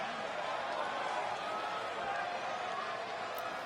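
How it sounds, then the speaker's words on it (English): A wrestling arena crowd gives a mixed reaction, a steady wash of murmuring and scattered calls with faint claps, sustained and moderately distant for the whole stretch. "Kind of sounds like the crowd is a bit mixed on Tito here."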